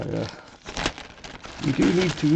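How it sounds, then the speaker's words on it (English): Plastic bag crinkling in short rustling bursts close by, with a person talking over part of it. "1 second, I need a plastic bag."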